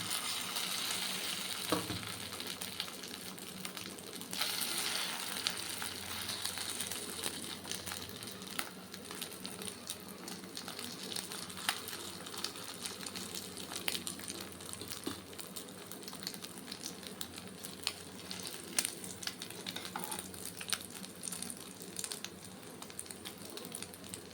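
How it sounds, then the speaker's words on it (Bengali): Maggi noodles fry in hot white oil over a very low flame, making a faint, steady, continuous sizzle with occasional small crackles and no speech. "তেল কিন্তু গরম হয়ে গেছে এখন দিয়ে দেবো এই যে ম্যাগি"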